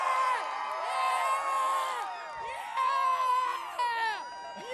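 A large crowd outdoors at a Tree of Lights event cheers and whoops, many high voices shouting and calling over one another in a continuous excited din.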